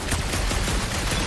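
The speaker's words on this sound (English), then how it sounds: "A couple of shots should bring it down." Rapid gunfire aimed at a gunked-up reactor in Marvel's Guardians of the Galaxy, a quick dense rattle of shots over a constant noisy game backdrop, lasting just over a second with no talking.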